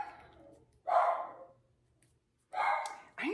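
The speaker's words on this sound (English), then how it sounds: "My dog is barking." A dog barks nearby, with two loud separate barks and then a third starting, set against a quiet indoor room.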